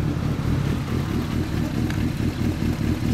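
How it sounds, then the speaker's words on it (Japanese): Ducati 998S Bayliss with Termignoni exhaust running after starting, a dense, loud low-pitched engine rumble with uneven pulsing, heard close and alone without talk. "エンジンを聞かせてもらえますか。"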